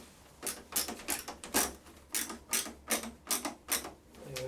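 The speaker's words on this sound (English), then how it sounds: "we'll put 2 screws in to secure the scanner on the machine" Screws driven into the hinges of a dropped Epson C5790 printer's scanner unit give a series of dry, rhythmic ratcheting clicks, about ten close bursts in steady succession, fairly quiet and with no talk.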